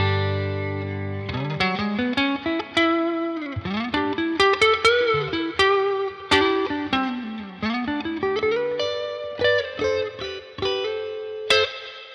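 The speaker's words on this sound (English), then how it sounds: "With a bit of reverb on. This guitar sounds completely different." Baum Wingman electric guitar played through the neck pickup with reverb, a clear melodic line of bent and sliding notes ringing out with a lingering tail, solo and fairly loud.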